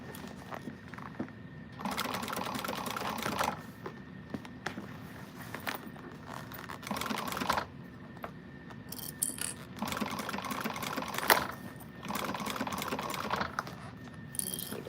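Sewing machine stitching a slouch shoulder bag, running in several steady bursts of a few seconds each with short pauses between, close and moderately loud, with light handling noises in the gaps.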